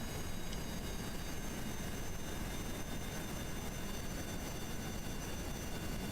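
A steady, unbroken aircraft engine drone at half throttle in the video game Kerbal Space Program, a constant broadband roar with no speech over it.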